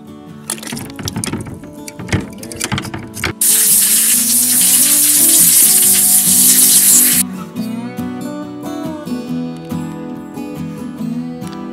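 A loud, steady hiss of compressed air blasts clean the parts of a Stromberg WW two-barrel carburetor from a 1964 GMC pickup's 305 V6, cutting in abruptly for several seconds amid workshop handling noises.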